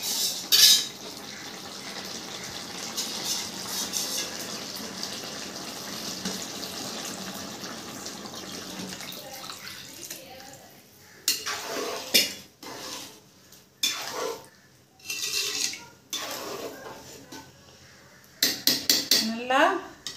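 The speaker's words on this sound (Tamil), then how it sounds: "இப்போ மசாலா தேங்காய் பாலை நம்ம சேர்த்துக்குருவோம்." Masala coconut milk is poured into a pan of sautéed cauliflower, butter beans and prawn curry, with a long steady pouring and sizzling wash followed by scattered clinks of a spoon against the pan and quieter pauses.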